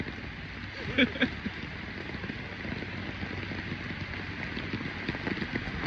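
Steady rain hisses over the streets of Midtown Manhattan, a continuous wet wash with faint city rumble underneath and a couple of brief knocks near the start.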